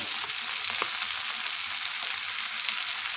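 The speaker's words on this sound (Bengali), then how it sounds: "এখন আঁচটা বাড়িয়ে দিয়েছি। এগুলো খুব ভালোভাবে মিশিয়ে নেব। আরও 2 মিনিট নেড়ে নিলাম।" Winter vegetables stirred and fried over high heat in a pan, a loud, continuous close sizzle with occasional scraping clicks from the spatula, no voices.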